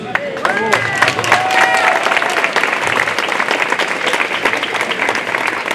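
A crowd at an outdoor rally in Lyon protesting the war in Gaza breaks into loud applause mixed with cheers. Voices shout over the clapping and a few higher cries rise early on, while the claps continue densely throughout.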